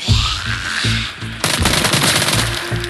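Rapid automatic gunfire in the VR zombie shooter Arizona Sunshine, played inside a mine. Bursts of close, loud shots come in a steady rhythm, and a sharper, denser volley breaks out halfway through.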